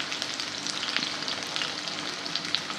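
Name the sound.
potato being sautéed until soft for sabudana khichdi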